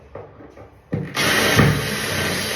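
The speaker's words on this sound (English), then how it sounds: "You see how quick it drills?" A power drill bores into a wall during a bathroom renovation. A few quiet knocks come first, then the motor spins up loud and steady, close and without talk.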